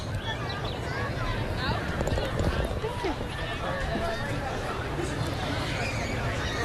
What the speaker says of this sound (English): just hearing and seeing the horses, they're amazing